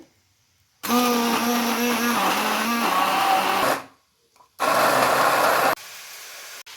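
A kitchen blender grinds green chilies and yogurt into a paste, running loud in two bursts with a short pause between, its motor whine shifting pitch as the mix churns.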